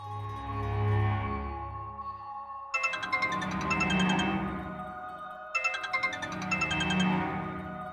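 A mobile phone plays a ringtone, a bright repeating melodic phrase that starts and restarts three times at moderate volume, with no voices over it.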